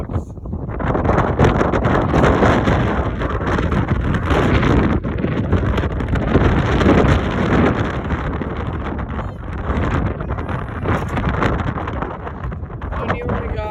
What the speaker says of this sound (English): It's pretty windy outside.